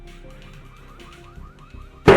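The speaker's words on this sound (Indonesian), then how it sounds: "tiba-tiba terdengar suara alarm mobil dari luar, sehingga Daniel mencoba melihatnya." A car alarm bursts on loudly outside near the end, after a stretch of quiet tonal background sound.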